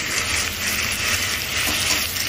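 Chicken pieces sizzle steadily in a pan of fried onion and ginger, a continuous close, dense crackle with no pauses or voices.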